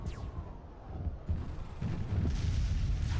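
Battleship torpedoes launching in the Master of Orion strategy game: a low rumbling boom and mechanical whoosh that swells into a dense, sustained barrage of heavy space-battle explosions, loud and continuous toward the end.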